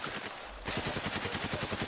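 Rapid automatic gunfire from the video game Spec Ops: The Line, a loud, steady burst of repeated shots that starts after a brief quieter stretch and continues to the end without talk.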